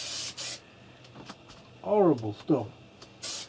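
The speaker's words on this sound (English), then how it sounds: "Okay, on with the spray glue again." Short hissing bursts of a spray glue aerosol can fire at the start and end, with a person speaking briefly in between.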